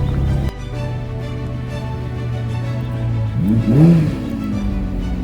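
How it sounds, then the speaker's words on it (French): A Honda Integra Type R at a classic car rally holds a steady engine note, then accelerates hard with a rising, revving roar near the end. "Super Integra Honda. Type R. Ça aussi, ça envoie."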